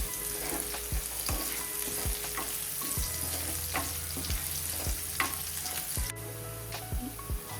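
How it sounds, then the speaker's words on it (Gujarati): Onions frying with crushed ginger and garlic in a pan for Kathiyawadi dhokli curry, a continuous close sizzle with regular stirring scrapes and light taps of the spoon, no one speaking. "સારી રીતે ડુંગળીને સાંતળી લઈશું"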